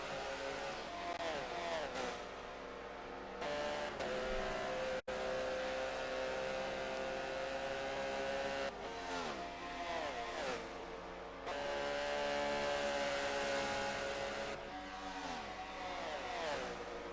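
Porsche race cars at Le Mans in a racing video game, with engines revving and passing in repeated waves as gears shift up, loud and steady, joined by a commentator talking over them.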